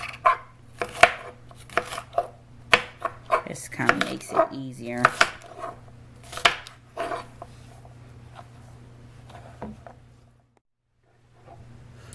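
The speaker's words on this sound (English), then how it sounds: "run back and forth to my cutting board cutting and chopping up things" Knife chopping onion and garlic on a cutting board while turkey chili is being made, a series of sharp close taps in uneven bursts over several seconds, with someone speaking briefly and a steady low hum underneath.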